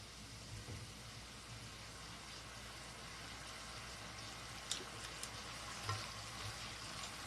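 Anchovies and nuts tossed gently in a pan with oil and syrup give a faint, steady low sizzle, with a couple of soft spatula clicks late on.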